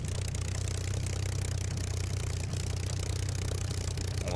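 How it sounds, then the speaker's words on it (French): Spitfire Mk IXc engine in a flight simulator game, a steady mid-level droning hum with a faint continuous clicking texture, alone and unbroken. "On entend bien le petit cliquis du moteur."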